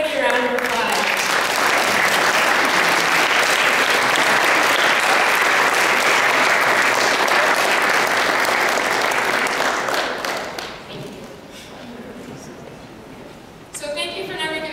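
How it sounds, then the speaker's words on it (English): Sustained, dense applause from an audience honoring graduating 2011 classmates, loud and continuous for about ten seconds before fading to a quieter murmur, with a brief swell returning at the end. "Let's give everybody a round of applause."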